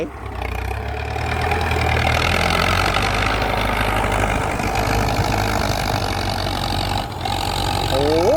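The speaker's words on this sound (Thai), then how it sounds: "อันนี้ไม่ใช่รถซื้อแกนะครับเป็นรถไถ" A heavy tractor engine rumbles steadily at close range while pushing soil to build an access road, loud and continuous, with a person speaking over it.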